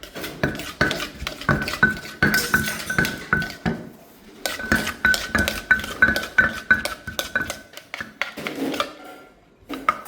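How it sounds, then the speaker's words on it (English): Papaya salad is tossed in a bowl with rapid clattering strokes, a busy run of knocking and scraping utensil hits with a brief pause partway through. "we can mix everything"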